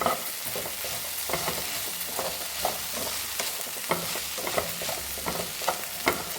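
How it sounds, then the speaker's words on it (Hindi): Garlic with turmeric and salt sizzles steadily in a pan for a garlic paratha, with a spoon stirring and scraping in irregular clicks over the constant frying hiss, no talk. "इसमें हम थोड़ा सा हल्दी डाल देते हैं, थोड़ा सा नमक, और इसको हम मिक्स कर देते हैं।"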